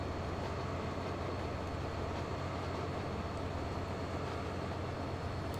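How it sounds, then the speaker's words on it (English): An iron ore train passes in Transport Fever 2, a steady, continuous low rumble of rolling rail wagons at moderate volume that holds evenly throughout, with no voices. "Another iron ore train."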